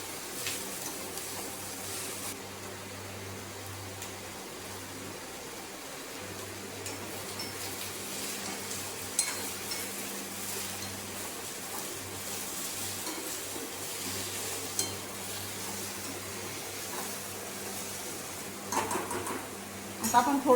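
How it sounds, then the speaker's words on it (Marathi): Ingredients for shev bhaji sauté in a pan, a steady low sizzle with occasional stirring and scraping clinks of a utensil against the pan, running evenly throughout with a few louder knocks. "थोडं हे पण चांगलं परतून घेऊ।"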